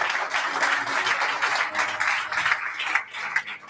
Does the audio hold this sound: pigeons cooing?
no